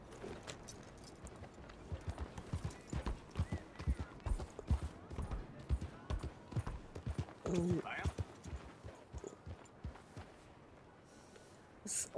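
Rhythmic clip-clop of horse hooves trots steadily in the game Red Dead Online, with a brief snort partway through; speech appears faintly at times.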